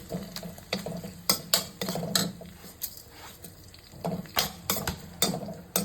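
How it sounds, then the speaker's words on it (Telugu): Green chillies and other upma ingredients frying in a pan, heard as a soft sizzle broken by repeated sharp clinks and scrapes of a spoon stirring against the metal, loud and close with no talk. "దీన్ని కొంచెం ఫ్రై చేయాలి."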